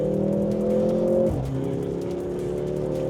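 A Mercedes-AMG GLC 43 SUV with a 2-liter four-cylinder engine accelerates hard, its engine note loud and close. The pitch climbs, dips briefly at a gear change, then rises again.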